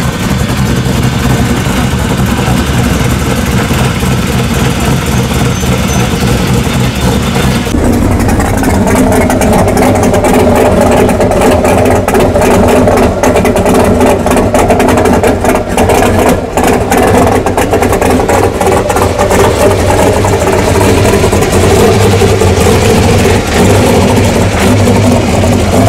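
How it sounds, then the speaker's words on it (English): A loud car engine idles early in the morning at a Pro Street car show, a deep continuous rumble that steadies after a slight change in pitch, with no talk over it. "There's always one loud car at 6 o'clock in the morning."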